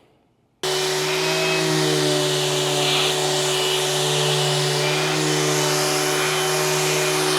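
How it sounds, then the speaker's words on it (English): A power sander sanding wood switches on after a short pause, then runs with a loud, steady motor hum and grinding whir, with no talk over it. "so we finished sanding"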